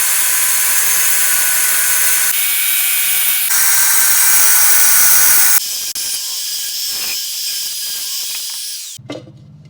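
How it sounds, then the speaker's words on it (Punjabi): A power tool cuts into a clay water pot being made into a room heater, giving a loud, steady high whine with brief changes in pitch, ending abruptly followed by a short knock. "ਹੁਣ ਆਪਾਂ ਇਹਨੂੰ ਕੱਟ ਨਾਲ ਕੱਟਣਾ ਹੈ"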